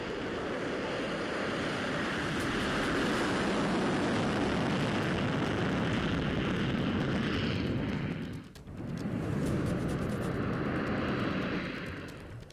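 Israeli fighter jets fly past in a loud, continuous, roaring wash of engine noise that holds steady for most of the stretch. The roar dips briefly near the end, then swells again.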